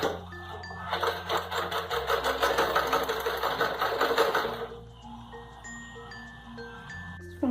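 A sewing machine stitches a baby dress in a steady, fast mechanical whirr for about four seconds, then slows and stops, leaving faint beeps and hum.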